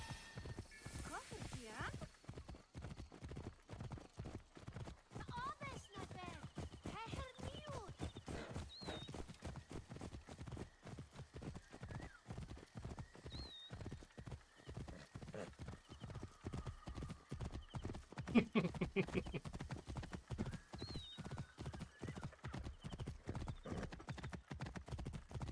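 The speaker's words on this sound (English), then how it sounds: "I don't have to drive the horse anyway." Horse hooves clip-clop in a steady, continuous rhythm throughout Assassin's Creed Origins gameplay, with occasional neighs and whinnies rising above the footfalls and a voice talking intermittently over them.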